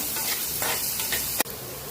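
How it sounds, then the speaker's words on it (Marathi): Onion and garlic fry in oil with a steady, close sizzle that fills the whole moment, broken by a brief sharp clink near the end. "तर चांगला एक जीव करून भाजून घ्यायचा कांदा ह्याच्यात तेलामध्ये"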